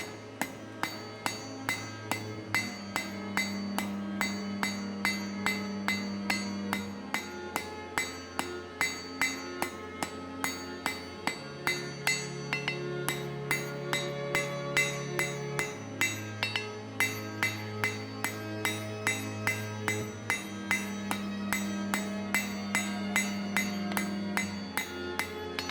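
A blacksmith hammers hot steel on an anvil to spread the box jaw of forging tongs, giving bright, ringing metallic blows at a steady rhythm of roughly two per second throughout, close and alone.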